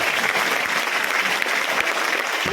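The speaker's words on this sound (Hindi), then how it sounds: "ताली बजाइए डीएक्सएल वालों के लिए।" An audience at a DXN product talk bursts into steady applause, a thick, continuous clatter of many hands clapping at close range, loud and even throughout the short stretch.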